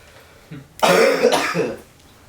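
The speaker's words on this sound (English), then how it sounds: "I'm about to cough again" A person coughs hard, a single harsh throat-clearing burst lasting about a second, close and loud against a quiet background.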